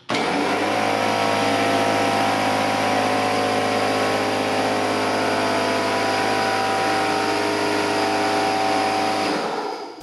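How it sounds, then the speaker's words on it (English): A common portable air compressor, loud enough to reach 89 decibels, runs close by at full volume, its steady droning motor hum and bright mechanical whine holding constant for about nine seconds before shutting off near the end. "the most common compressor in America, or, as you may know it, the noisiest little thing in your garage"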